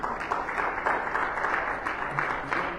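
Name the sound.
congregation applause in church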